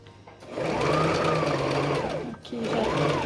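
A sewing machine backstitches over the elastic of a fabric face mask, running in two close, loud mechanical bursts separated by a short pause.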